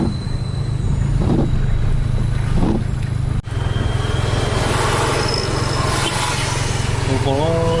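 Volvo B11R premium intercity bus heard from inside, a low steady engine rumble with road and cabin noise throughout and a brief dip partway before the drone resumes.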